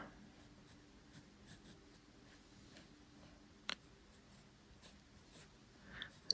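A pencil sketches quietly on paper while a sniper rifle concept is drawn, faint scratchy strokes in short bursts, with one sharper tap midway.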